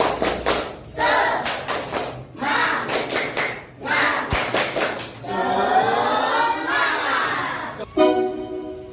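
A classroom of schoolchildren performs a rhythmic spirit clap in repeated bursts of loud unison clapping separated by short pauses, with the group also chanting and shouting along between the claps.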